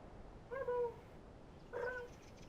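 A pet cat named Marble gives two soft, separate meows, quiet and close, with a faint background hiss between them.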